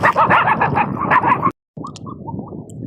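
Two puppies chasing each other outdoors on a farm let out quick, loud yips and barks in a busy run, then a short pause and softer whimpering yelps.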